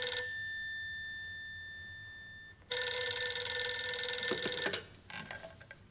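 A desk telephone rings in Gabriel Knight: The Beast Within, a steady electronic ring for about two seconds, then a brief pause before a louder, busier burst of ringing tone that fades out.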